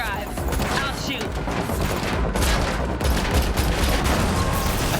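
Rapid automatic gunfire crackles loudly and without pause during a car chase in The Matrix Awakens, an Unreal Engine 5 game, in a dense, continuous barrage.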